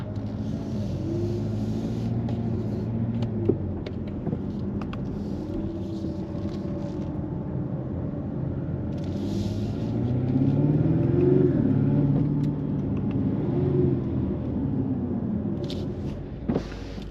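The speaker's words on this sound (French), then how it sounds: "Malgré le 4 cylindres, on a quand même une sonorité qui a été très bien travaillée donc de la part de Jaguar." Jaguar F-Type with the 2.0-litre 300 hp four-cylinder engine, heard from the cabin while driving: a steady low engine drone with gentle rises and falls in pitch as revs change, plus faint clicks and road noise.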